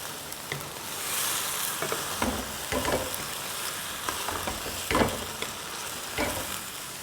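Minced keema stirred and frying in a pan for biryani, a steady sizzle broken by scraping spoon strokes that land every second or so, close and fairly loud.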